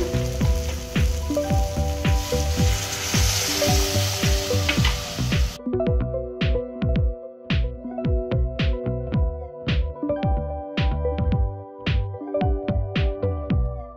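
Spice masala frying in oil in a pan for restaurant-style chhana kofta, a close crackling sizzle with repeated sharp spattering pops, loud at first and then thinning to scattered snaps.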